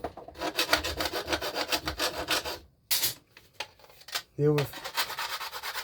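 Hand file dressing the cut metal edge of a scale truck trailer chassis frame, a run of quick rhythmic rasping strokes up close, pausing briefly before a few more strokes; a voice speaks briefly near the end.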